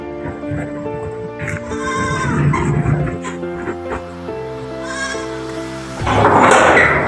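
Goats bleating in a goat shed, several loud, wavering calls overlapping one another close by, with a dog's whimpers and barks mixed in and a burst of louder noise at the end.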